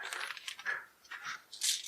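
Standard plastic role-playing dice from a Starfinder Beginner Box spill out of a cut-open bag, a quick close cascade of light clicking clatters in several bursts, with no voices.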